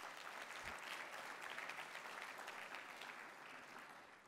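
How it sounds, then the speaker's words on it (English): Steady, dense applause from a large student audience at a business conference, continuous and evenly loud throughout, easing slightly toward the end. "Give yourselves a round of applause for that."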